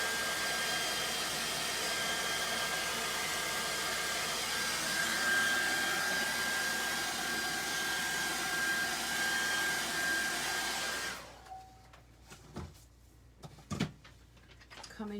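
A hair dryer drying paint on a tin blows with a steady, loud, whooshing roar for about eleven seconds, then cuts off, leaving quiet handling clicks and knocks.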